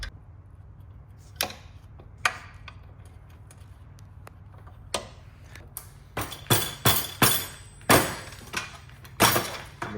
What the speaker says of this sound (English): this is the M5 Allen key. We loosen these two bolts.